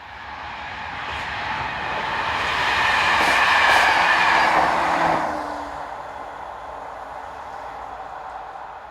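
Unit 332, a passenger train running from Antwerpen to Leuven, rumbles past a level crossing. The sound swells steadily to a loud, close peak, then fades away as the train recedes.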